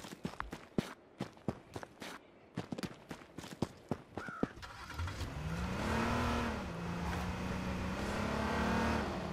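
A car engine in the survival game H1Z1: clicky footsteps first, then a steady engine drone rises around the midpoint and holds at a loud, even level with its pitch sweeping up and down as the vehicle drives.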